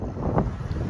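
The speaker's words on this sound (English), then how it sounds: "We're outside the Hepworth, it's a bit windy" Wind gusting outdoors against a microphone, a steady low rumbling buffet throughout with a brief stronger gust.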